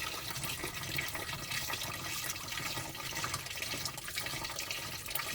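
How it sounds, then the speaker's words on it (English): Coolant water draining from the radiator of a 1980 Triumph TR7, a steady close splashing trickle running continuously into a container with no pauses or talk. "Water's coming out of there somewhere, I'm sure."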